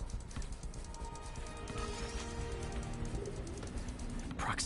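A pigeon carrying a spider bot in Spider-Man PS4 coos softly and flutters over a steady bed of city game ambience, quiet and fairly close.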